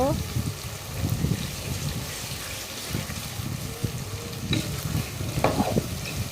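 Beef and potatoes stirred and fried in a pan on a home stove, with steady low sizzling and repeated scraping stir strokes throughout, close and moderately loud.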